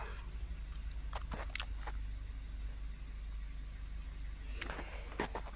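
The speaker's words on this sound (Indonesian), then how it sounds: "Ini mesin posisi masih hidup." A Toyota Etios engine idles with a faulty air conditioner, making a low, steady hum under a few scattered light clicks and knocks from work nearby.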